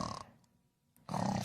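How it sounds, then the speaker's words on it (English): A cartoon fire truck snores loudly, one rough, rumbling inhale-like burst, then a quiet pause, then another rasping snore. "Snoring! Snoring?"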